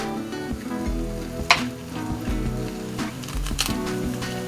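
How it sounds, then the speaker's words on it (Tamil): Mustard seeds, chana dal, peanuts and curry leaves frying in hot oil, a close steady sizzle and crackle with a few sharp pops and stirring scrapes, no talk over it. "பார்த்தீங்களா, பருப்பெல்லாம் வறுபட ஆரம்பிச்சிருச்சு"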